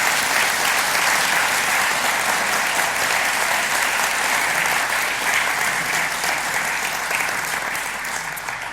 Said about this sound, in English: Let's welcome these friends with a round of applause.